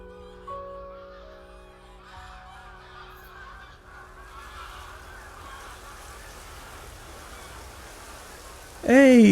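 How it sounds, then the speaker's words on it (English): Geese honk in a loose flock through a quiet, rain-soft scene from an anime episode, the calls faint and scattered before a loud burst of sound at the very end. "I think those birds are migrating too."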